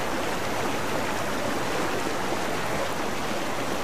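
Steady flowing water in Guild Wars 2, a constant soft rushing wash with no breaks, fairly quiet and heard on its own.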